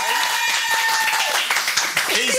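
Crowd applause with scattered claps and cheering fills the room, loud and continuous, while a voice speaks over it.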